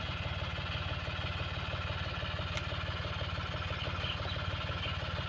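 A John Deere 5050D tractor stuck in mud, its engine chugging in a steady, rhythmic idle at moderate distance, fairly faint and unchanging throughout.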